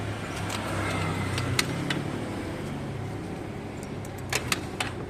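A Kymco Skytown 150 scooter idling just after starting, a steady low engine hum held throughout, with a few light metallic clicks near the end.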